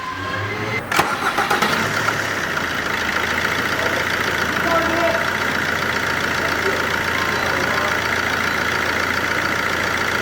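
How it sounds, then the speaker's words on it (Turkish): A Fiat Linea 1.3 Multijet diesel engine cranks briefly with a sharp starter burst, then settles into a steady, loud idle that continues evenly throughout. "Şimdi araca marş yapacağız. İlk sesini duyalım."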